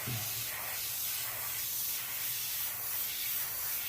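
Airbrush spraying paint in a steady, even hiss with slight pulsing, a test burst while custom-painting a Harley Davidson, continuous and close for several seconds.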